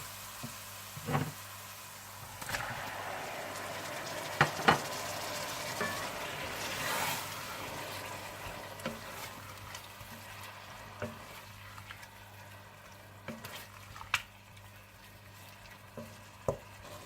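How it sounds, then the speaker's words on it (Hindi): A quiet, steady sizzle of tomatoes frying in a pan with ginger and garlic, with occasional scraping stirs and soft clicks, no talking. "अदरक लहसुन थोड़ा सा भूनने के बाद आप इसमें टमाटर डालकर मिला दीजिएगा।"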